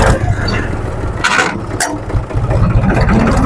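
A used vehicle engine runs in first gear during a trial drive, a steady mid-pitched drone heard up close with a few brief louder bursts, with no gearbox noise standing out.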